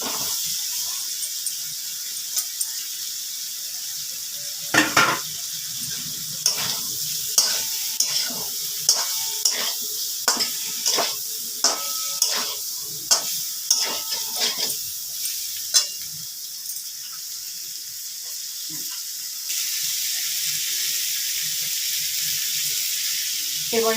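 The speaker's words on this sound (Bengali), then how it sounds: "মশলাটা কষানো হয়ে গেছে, এবার আমি ব্রকলি এবং আলু দিয়ে দিচ্ছি।" Broccoli and potatoes go into spice paste frying in a pan and are stirred, giving a run of sharp, regular scrapes and knocks over a steady close sizzle that keeps going after the stirring stops, with no talking.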